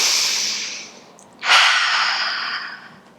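Deep breath drawn in and released during a kids' yoga class in tree pose: a long airy inhale fades to a brief pause, then a louder rushing exhale trails off, close and alone with no talk.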